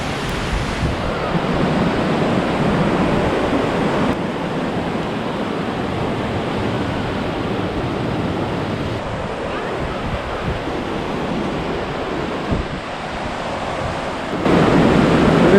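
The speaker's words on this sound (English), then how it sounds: "it's like water being poured into a bowl from a pitcher" The river roars over the Bowling Pitcher falls in Riverside State Park, a loud, constant wash of rushing water with wind buffeting the microphone throughout.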